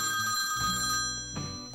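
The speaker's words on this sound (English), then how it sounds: "The phone rings." An office telephone rings with a steady electronic bell tone that fills the whole short stretch, holding at a constant level with a slight swell near the end.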